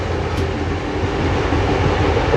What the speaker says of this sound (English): That's the old steam train.